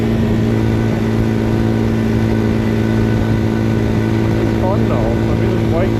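A Papio SS mini motorcycle ridden on the road, its small engine a steady, loud drone mixed with wind rush throughout, while a rider talks over it.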